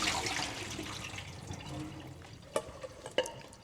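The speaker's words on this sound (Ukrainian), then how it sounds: "давайте тепер злиємо воду з наших яїчок" Water from a pot of boiled eggs pours out in a steady rushing stream, tapering off, followed by a few light clunks of the eggs shifting in the pot.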